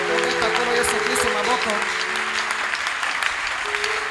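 A church congregation applauds loudly and steadily in sustained clapping, with voices calling out over it, during a Pentecost anniversary service.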